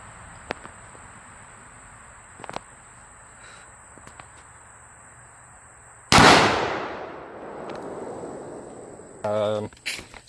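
A single loud rifle-shot blast at a Tannerite target set up for a gender reveal, outdoors, with a sharp crack and a rumbling decay after a quiet stretch of faint rustling and small clicks, followed by brief voices near the end.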